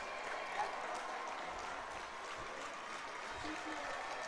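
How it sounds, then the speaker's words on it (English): Hockey fans at a college men's hockey whiteout game against Plattsburgh keep up a steady, dense roar of cheering and applause throughout, broad and continuous across the arena. "the reason that the fans haven't stopped cheering right now"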